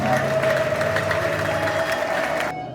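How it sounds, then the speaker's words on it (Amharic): Church congregation applauding together during a prophetic sermon, a dense, steady wash of clapping that holds loud and even throughout, then drops away sharply at the end. "ለእግዚአብሔር ክብር አጨብጭቡለት።"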